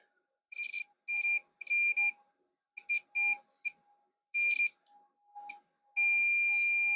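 An X Station ODE drive installation produces repeated electronic beeps: a series of short, bright, high-pitched tones in irregular bursts, ending with one long sustained beep, clear against near silence.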